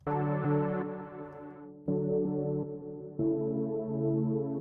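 Synthesizer chords with a flat, unmoving filter cutoff, three sustained hits in a row, each one steady and bright without any sweep.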